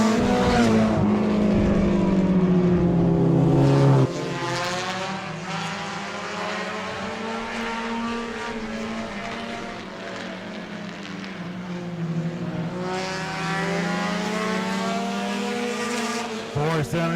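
Four-cylinder race cars scream around the oval at Auburndale's Friday racing, engines wound toward 8,000 RPM. Their loud, rising and falling whines overlap as the cars pass, then swell again near the end.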